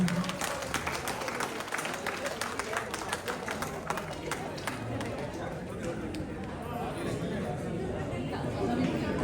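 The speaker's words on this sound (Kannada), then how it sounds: "ಜೋರಾದ ಚಪ್ಪಾಳೆ ಬರಲಿ ಇನ್ನೊಮ್ಮೆ." A crowd at a baby's naming ceremony claps in a dense burst of applause that thins out over several seconds, with chatter and voices mixed in throughout.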